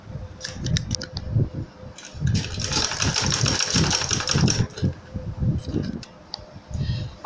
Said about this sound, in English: So let me just begin to sew now.